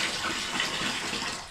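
A bathroom tap runs in a steady hissing stream, close and continuous, tapering slightly at the very end of the short stretch.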